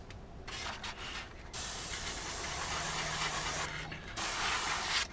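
Airbrush spraying paint onto a Saturn V diorama model, a steady close hiss broken by short pauses, holding almost continuously through most of the stretch.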